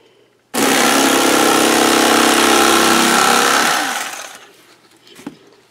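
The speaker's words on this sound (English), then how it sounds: "I'm going to cut it in 15-inch increments with my electric knife." Electric knife cutting a foam dress boot insert into 15-inch lengths, a loud buzzing motor whine that starts abruptly, runs steadily for about three seconds, then winds down, followed by a faint click.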